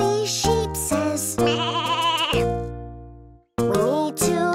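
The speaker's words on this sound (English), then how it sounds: "A woolly sheep says," A woolly cartoon sheep bleats in a kids' cartoon show, giving several loud, wavering, musical baas in a row, with a short pause before the last ones. No one speaks over them.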